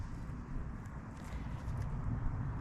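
A horse walks close by in a grassy field, soft dull hoof thuds in an uneven plodding rhythm over a low rustling background, with no talking.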